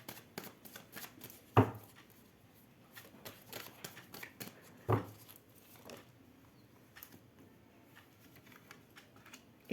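Tarot cards shuffled and drawn by hand: a steady patter of soft flicks and rustles, with two louder slaps as cards are set down, close and fairly quiet, with no talking.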